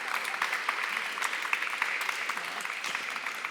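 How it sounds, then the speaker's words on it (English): An audience at a film industry talk applauds in a steady, moderately distant wash of clapping with no voice over it, holding even for the whole stretch. "I will tell him you guys clapped"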